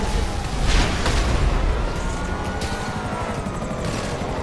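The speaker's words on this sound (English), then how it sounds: "Helicopter coming in." A helicopter in the video game GTA Online comes in loud and close, its rotor thudding steadily with a whining engine, while a few booms from weapon fire punch through the rotor noise.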